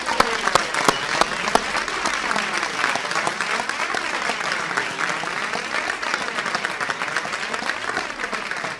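Sustained applause from an audience at a Capitol Hill event reintroducing the Equality Act, a dense, even wash of many hands clapping at steady loudness for nearly nine seconds, with a few sharper claps near the start.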